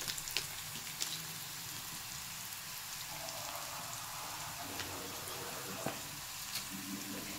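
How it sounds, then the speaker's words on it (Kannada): Onions frying in a pan with turmeric and salt give off a steady, soft sizzle with faint crackles and an occasional scrape, close and quiet, with no talk over it. "ಅರಿಶಿನ ಮತ್ತು ಉಪ್ಪು ಹಾಕಿದರೆ ಈರುಳ್ಳಿ ಎಲ್ಲ ಬೇಗ ಫ್ರೈ ಆಗುತ್ತೆ"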